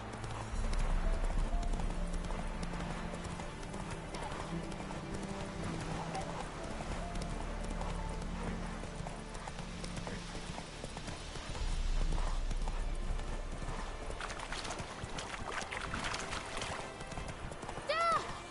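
Roach, Geralt's horse in The Witcher 3 on PS5, gallops with steady clip-clopping hoofbeats over a low rumbling game soundtrack, with occasional speech layered in across the run.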